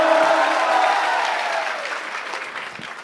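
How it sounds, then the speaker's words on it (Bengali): A crowd at a political rally claps loudly in a dense, continuous burst that starts strong and slowly fades over a few seconds, with faint crowd voices underneath. "জোরে হাততালি হোক"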